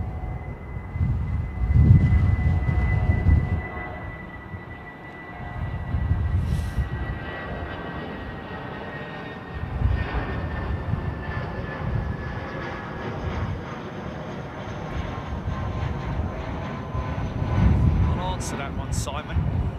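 Airliner approaching Heathrow too fast and high, a broad engine roar swelling and fading in waves with a steady whine, heard from a distance with people talking over it.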